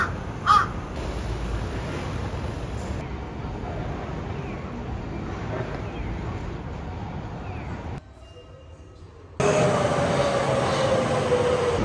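A train pulls into a station in Japan, heard as a steady loud rumble with a sharp squeal near the end, while a crow caws briefly near the start and the background shifts abruptly.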